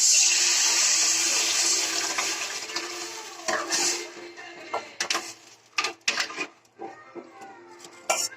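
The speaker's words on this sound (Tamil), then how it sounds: "நல்லா கிண்டி வச்சு கரைச்சி வச்சிருக்க புளி தண்ணியை ஊற்றிக்கலாம்." Dissolved tamarind water pours into a pot for pepper rasam with a steady liquid rush that fades, followed by scattered clinks and knocks of metal utensils against the pot.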